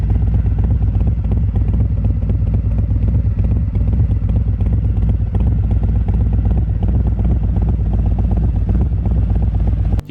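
A Harley-Davidson Road Glide Special, Stage 4 with stock header and Bassani Deep and Throaty DNT slip-on mufflers, idles with a loud, deep, steady exhaust rumble, close and continuous with no talking.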